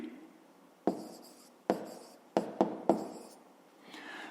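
A pen writes a fraction by hand on paper, giving five sharp, quiet strokes and taps spaced unevenly, with a faint scratch at the close.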